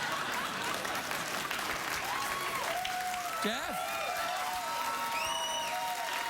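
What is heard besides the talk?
studio audience applause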